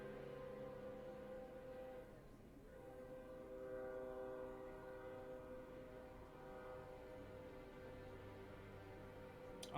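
A train rumbling along in the background with sustained tonal horn-like drones, steady and moderately faint for several seconds, no one speaking.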